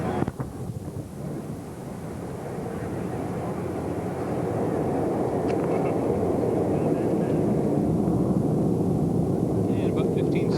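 Rocket engines at a launch, heard from about three miles off, give a broad, low, rumbling roar that builds slowly and holds steady, with faint voices in the background.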